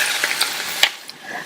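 A spoon scrapes and clinks while stirring potato curry in a pan, giving a few light, quick strokes over a faint sizzle.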